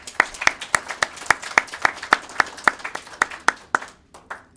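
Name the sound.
audience applause at graduation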